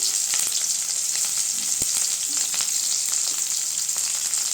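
Onion and curry leaves fry in hot oil with cinnamon and cloves for wheat rava kichadi, a loud steady crackling sizzle up close with a few faint stirring knocks and no voices.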